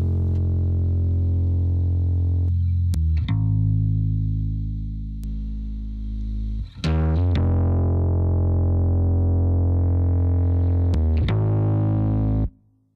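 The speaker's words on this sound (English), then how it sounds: "just here the one distortion effect" A distortion effect colours a sustained guitar-like tone in a recording studio, with loud, buzzy held notes broken by sharp transient strikes and brief gaps between phrases.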